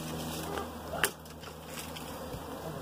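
Honey bees swarm in a buzzing cloud around a beekeeper as he works a swarm on a tree limb. The hum is close and continuous, with one sharp crackle partway through and no voices.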